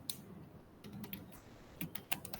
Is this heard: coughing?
no